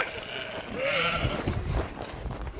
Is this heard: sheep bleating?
yes